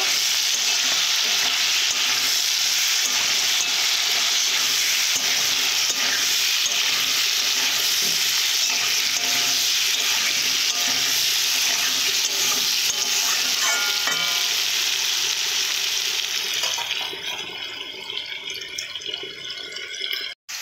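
Potatoes with turmeric and chili powder sauté in a pan, a loud, dense, continuous sizzle with stirring scrapes that thins out and quiets near the end, no talking over it.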